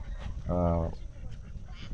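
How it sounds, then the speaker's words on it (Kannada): A single loud, nasal duck quack stands out briefly in the middle, with faint outdoor background noise around it, at a pond by a cafe in Bengaluru. "ಬಾತುಕೋಳಿ ಬರ್ತಾವೆ ನೋಡ್ರಿ, ತೋರಿಸ್ತೀನಿ ಈಗ."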